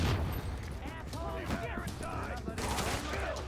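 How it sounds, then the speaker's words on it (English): Grenade blast during the Lexington Challenge mission of a shooter game, a dense burst of gunfire and booming impacts that roars continuously, with a voice speaking over the chaotic battle noise. "Grenades hit really hard."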